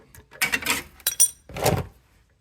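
A 14 mm wrench works loose the oil drain bolt on a Kubota X900 RTV, giving a few sharp metallic clinks and scrapes in short bursts, close up with no talk.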